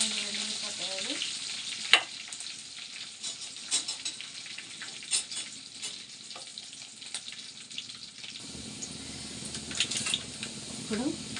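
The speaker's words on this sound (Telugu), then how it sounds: "ఇప్పుడు ఉల్లిగడ్డ వేసుకున్నాము. వేగాలండి." Onions frying in a pan for a spinach and potato curry, with a steady crackling sizzle and occasional stirring scrapes, a louder burst around the middle and lower rumble later; no talking.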